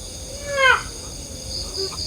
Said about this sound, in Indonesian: Ada suara gagak teman-teman.